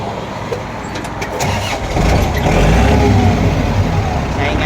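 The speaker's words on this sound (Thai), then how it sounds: "เดี๋ยวสตาร์ทให้ดูนะครับ" Used Thai farm tractor, about 80% condition with original paint, cranks and catches, its engine rising from a low rumble to a steady louder running roar nearby, with a voice talking over it.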